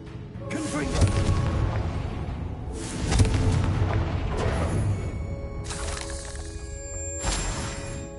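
Confringo spell blasts in Hogwarts Legacy, played on PS5: several heavy booming explosions spaced a few seconds apart, each a sharp burst trailing off, over a continuous game soundscape.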